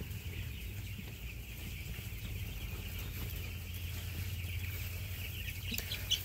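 Chickens in a poultry house cluck faintly and sporadically under a constant low mechanical hum, with no one speaking.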